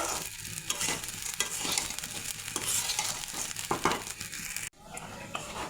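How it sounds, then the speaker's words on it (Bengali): Fried rice and lentils are tipped into a pot of chicken and stirred, giving a close sizzle with scraping and rustling stirs, then a brief drop in sound before the frying resumes. "এখন মাংস রান্নার কড়াইতে আমি এটা ঢেলে দেব"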